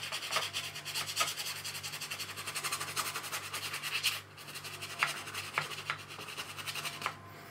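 A paintbrush scrubs green paint onto a landscape painting of hills, a soft dry rubbing and scratching of bristles against the surface in quick repeated strokes, faint and close, with brief pauses between bursts.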